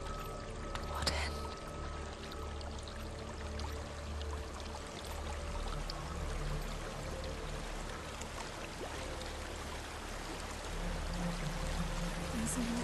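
Waterfall in Hellblade: Senua's Sacrifice, a constant low rushing pour of water, fairly quiet and steady, with a faint voice murmuring over it.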